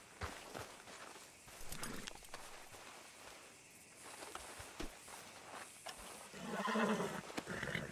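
A horse in the video game Red Dead Redemption II snorts and whinnies amid faint hoofbeats and game ambience, with a louder burst of activity near the end.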